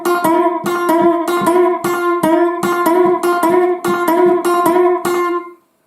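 An electric guitar plays a classic rock-and-roll-style intro phrase with a string bend, a rapid run of bright, repeated double-stop notes in even rhythm, loud and clear, ending abruptly.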